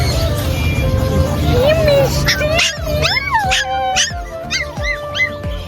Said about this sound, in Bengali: এই যে কুকুরটা আমাদের দেখা মাত্রই পুরো কাছে এসে ঘেউ করে আওয়াজ করছিল